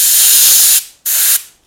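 An airbrush sprays paint onto a Superman design in two loud, close hissing bursts, a long blast followed by a brief pause and then a shorter one, with no talk.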